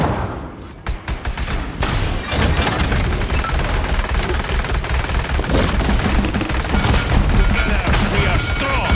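Rapid bursts of gunfire from the free-to-play shooter Paladins on Nintendo Switch, loud and dense throughout, with thumps and game effects layered over it and some speech in the mix.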